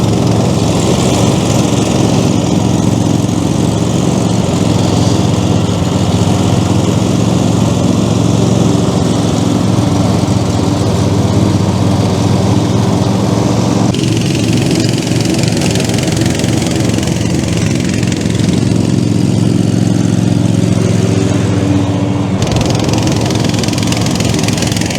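Ride-on lawn mower with grass boxes fitted, cutting grass in mulching mode, its engine droning loudly and steadily throughout with the load shifting slightly partway through.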